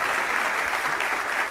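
Crowd applause and cheering in a political gathering hall, a dense steady clapping roar heard alone for a brief moment.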